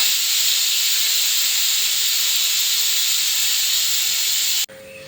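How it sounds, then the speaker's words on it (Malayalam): Pressure cooker whistle in a home kitchen, with green peas cooking inside, releasing steam as a loud, steady hiss that cuts off abruptly near the end, leaving quieter room noise. "നമ്മുടെ കുക്കർ കൂട്ടം ചീറ്റി"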